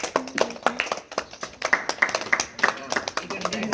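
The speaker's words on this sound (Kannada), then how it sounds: "ಜೋರಾದ ಚಪ್ಪಾಳೆ." Applause at a school opening ceremony, a run of loud, close, distinct hand claps in an uneven rhythm from a small group, with a voice speaking over them at the start.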